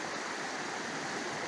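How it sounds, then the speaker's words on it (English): A short, narrow mountain brook running down a steep valley in the Green Mountains toward the Winooski River, heard as a steady, broadband rush of flowing water, continuous and fairly close, with no voices. "It's a fairly short brook."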